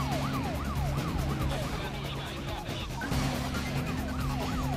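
Police car siren in the racing game Need for Speed Most Wanted, a loud repeating wail sweeping up and down steadily over engine and road noise throughout the chase.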